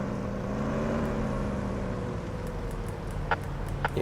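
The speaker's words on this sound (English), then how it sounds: "Really hard to tell which ones are the noisy engine." Steady low engine drone from cars in the Police Simulator: Patrol Officers video game, a continuous rumble with a couple of brief higher clicks near the end, no talk over it.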